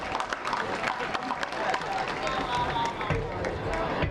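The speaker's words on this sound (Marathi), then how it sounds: "एकदा जोरदार टाळ्या." An audience at the Swartarang 2K26 college cultural festival applauds after the opening performance with dense, fast clapping that runs throughout over a background of crowd murmur.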